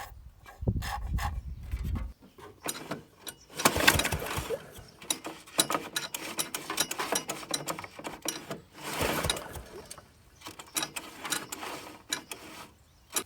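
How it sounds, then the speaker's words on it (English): Pull starter cranking over the engine of a 1971 AMF Ski Daddler Mark IV vintage snowmobile found in a junkyard, repeated rough ratcheting pulls and mechanical rattling in bursts, close to the microphone with no engine catching. "I was pulling it over to try and test if I have spark"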